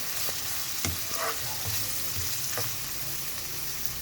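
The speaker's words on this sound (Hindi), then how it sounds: "अच्छे से मिक्स करेंगे, उसको पकने देंगे जब तक प्याज थोड़े से नरम हो जाते हैं।" Chopped onions fry in a pan for chicken macaroni, a steady close sizzle with a few scraping stir sounds over the constant hiss.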